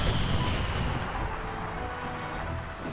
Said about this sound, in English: that was a pretty good broadside right there